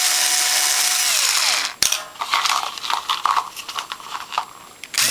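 A special power tool retaps stripped screw holes in a Norwalk juicer: a motor whine spins down and stops, followed by a sharp knock and then close, irregular grinding and crunching as the thread is cut.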